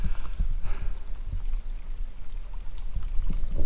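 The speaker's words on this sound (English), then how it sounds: "look at this beautiful little creek" A small creek flows steadily nearby, with a continuous trickling, pouring wash of water and soft low rumble throughout, no voices.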